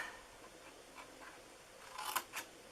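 Scissors snip through paper for a treat bag, a few faint, quiet cuts with a couple of sharper clips close together near the end.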